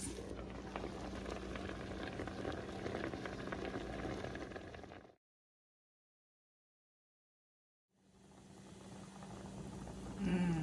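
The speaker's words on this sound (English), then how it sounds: "add a little water and a little seasoning and let it simmer for 5 minutes" Ravioli simmers in a pot of seasoned water, a soft, steady bubbling hiss that cuts out into silence midway and then resumes.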